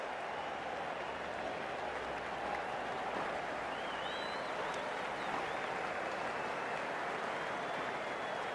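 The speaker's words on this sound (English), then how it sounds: "Please give him a round of applause." Steady, dense applause from a large cricket stadium crowd at an IPL 2025 match between LSG and PBKS, sustained at even loudness for the whole stretch, with faint whistles rising above the clapping.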